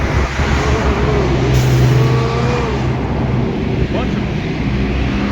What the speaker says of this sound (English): Whoa, look at these buses.